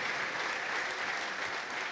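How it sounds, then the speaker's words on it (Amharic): Church congregation applauding, a dense, even wash of many hands clapping at once, sustained and fairly distant without pauses. "አጨብጭቡ።"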